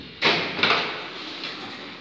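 Dolpol-Dźwig elevator doors, modernized in 2008 with the original motor, slide and thump shut in a Wrocław apartment block: two close knocks followed by a fainter third bump over a steady mechanical hiss.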